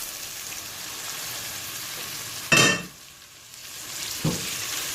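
Fried okra tipped into a spicy bhindi masala in a pan, a steady sizzle under an abrupt loud burst as it lands, then a quieter hiss and a short clink of stirring; no one talks.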